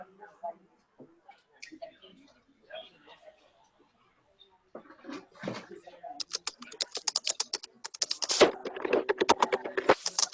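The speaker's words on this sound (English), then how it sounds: "hear somebody typing a question" Close, rapid clicking of keys on a computer keyboard, starting sparse under a quiet voice, then growing into steady, busy typing.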